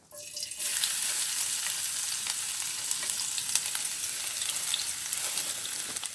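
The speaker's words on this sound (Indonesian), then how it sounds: "kita akan panaskan minyak dan kita akan menumis bawang merah dan bawang putihnya" Shallots and garlic sauté in hot oil, starting with a quiet moment and then a sudden steady hiss of sizzling that holds evenly and close, with no one talking.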